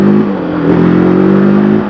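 A TVS Apache RTR 310 motorcycle engine pulls hard and steady, the exhaust note holding and rising as it shifts from first into second gear, loud and close with no talk.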